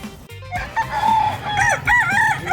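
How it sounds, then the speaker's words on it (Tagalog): Fighting roosters crow loudly and close at a live pet market in Bocaue, several overlapping cock-a-doodle-doo calls rising over a busy background. "ito yung eksena dito sa likod na bahagi ng mga kababayan natin sa mga panabong na manok"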